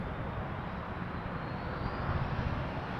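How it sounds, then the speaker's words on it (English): An Air Canada Airbus A321 taking off from Toronto Pearson: a steady, broad jet engine roar, moderately distant and unbroken for a few seconds. "Air Canada 139 now cleared for takeoff to Calgary on the 321"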